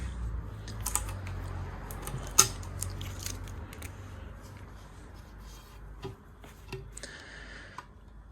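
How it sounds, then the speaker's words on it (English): Clamps pulled off a freshly glued part on a Truekit Discovery 400 inflatable boat, giving a few sharp clicks and snaps spaced over several seconds, with one louder crack near the start and lighter ticks later, close and fairly quiet. "So we'll just see how she looks when I pull these clamps off."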